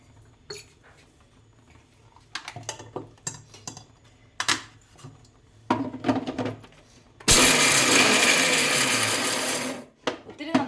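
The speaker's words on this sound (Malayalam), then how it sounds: "ഇനി നമ്മൾ ഇതിൻ്റെ അകത്തേക്ക് നമ്മുടെ കടല ഒന്ന് ചെറുതായിട്ടൊന്ന് പൊടിച്ചങ്ങ് ചേർക്കാവേ" A mixer grinder coarsely grinds peanuts in a loud, steady burst of about three seconds, preceded by clinks and knocks of handling the jar and lid.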